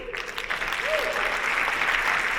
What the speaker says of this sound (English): Oh, y'all didn't clap long enough.